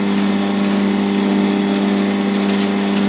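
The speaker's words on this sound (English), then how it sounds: "I'm going to sand that down." Acrylic pen blank being sanded on a spinning wood lathe, starting with 180-grit paper; a steady, loud motor hum with a broad abrasive hiss layered over it, continuous and close, with no talking.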